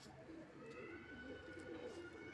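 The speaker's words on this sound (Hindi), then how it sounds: "ये कबूतर है" Punjabi and Malwai pigeons coo softly at close range, a faint, rolling series of low throaty coos repeating over a quiet background.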